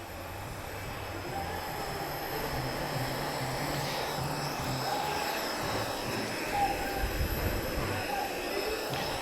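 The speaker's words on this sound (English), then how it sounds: "Pitts S2 is rolling" A Pitts S2 aerobatic biplane rolling at an airshow in Portugal, a fairly distant engine drone swelling slightly as it moves, over a steady background rumble with faint voices.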